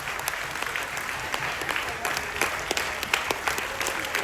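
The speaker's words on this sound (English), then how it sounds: "you're going to receive a huge round of applause as well" A room full of people applauds military families aboard a Carnival cruise ship, dense steady clapping with occasional sharper claps, sustained and fairly close with a faint voice underneath.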